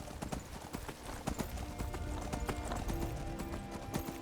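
Horse hooves clip-clop in Skyrim, a steady close rhythm of hoofbeats that carries on for the whole stretch over a bed of game ambience.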